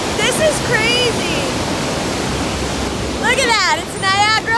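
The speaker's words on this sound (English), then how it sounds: "Niagara Falls is filling onto us as we speak." The roar of Niagara Falls is a loud, unbroken rush of falling water up close, a steady broadband wash with excited voices calling out over it at the start and near the end.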